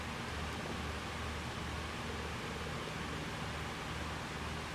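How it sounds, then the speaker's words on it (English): Electric fan running indoors on a hot day, giving a steady, faint broadband whoosh with a low hum underneath, unchanging throughout with no voices. "I'm sorry if you can hear the fan in the background."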